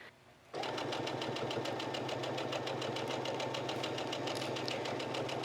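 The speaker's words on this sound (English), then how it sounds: "So I'm gonna sew it now." A sewing machine starts up abruptly and runs steadily, stitching vintage linen for a travel bag with a fast even whir and rapid needle clatter, close and continuous, with no voices.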